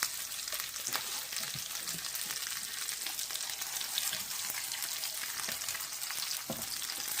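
Brisket tacos fry in a pan with a steady, bright sizzle and crackle throughout, dotted with small pops and spatters, close up and with no talking.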